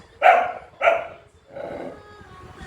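A dog gives two sharp, close barks in quick succession, then a softer whimpering yelp, loud and alone with no talk.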